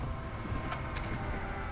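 Goats bleating in the fantasy video game Perisno, a faint animal call over steady background noise, brief and alone.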